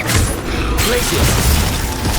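Spell-casting in the Hogwarts Legacy video game, including the Glacius ice spell, as a dense run of loud crashing, booming magical bursts and clattering effects that fill the whole short stretch, with a voice in the mix.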